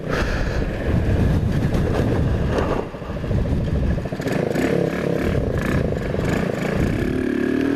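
A Kuba Dragon 50 motorcycle engine drones steadily while riding at night, a rough buzzing rumble with a brief dip in revs partway through, mixed with wind and clatter.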